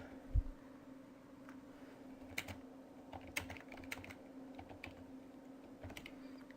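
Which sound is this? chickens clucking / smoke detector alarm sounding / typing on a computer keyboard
typing on a computer keyboard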